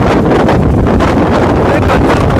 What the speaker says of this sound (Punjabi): ਬਹੁਤ ਜ਼ਿਆਦਾ ਹਵਾ ਚੱਲ ਰਹੀ ਹੈ ਇਸ ਵੇਲੇ